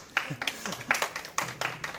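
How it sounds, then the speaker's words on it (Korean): Scattered hand claps from a small audience at a prenatal class session, a few irregular quick bursts of clapping, fairly faint and brief, without talk over them. "박수 인사 한번 해주세요."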